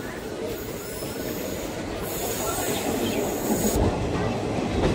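A train rolls past Azimganj City station without stopping, a loud continuous rumble of wheels on rails with squealing and faint clatter, building in intensity as the carriages sway; no one speaks over it.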